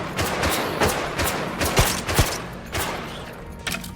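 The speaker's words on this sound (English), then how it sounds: "How are they shooting through the shield?" Rapid bursts of gunfire crack repeatedly in a modded Minecraft game, a steady volley of shots at moderate loudness with no voices.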